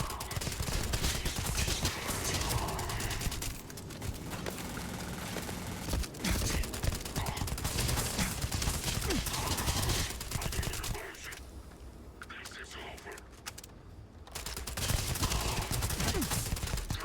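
A weapon fires in Starfield in a long stretch of fairly quiet, continuous shooting, with volleys and rapid shots rattling on and off through a busy background.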